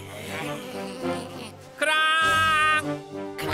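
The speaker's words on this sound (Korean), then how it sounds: "말벌들이 통통이를 쫓아오고 있어요." Cartoon wasps chase a character in a Pororo forest episode, a loud buzzing drone that swells in suddenly midway and holds for about a second, with cartoon music and effects before and after.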